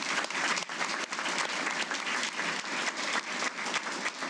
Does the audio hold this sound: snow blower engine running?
no